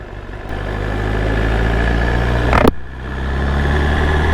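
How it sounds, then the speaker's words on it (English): A BMW motorcycle engine starts and settles into a steady, close idle, a low throbbing hum with a brief rev spike partway through before returning to an even rumble. "just start the bike, let it idle for 30 seconds and I can start riding"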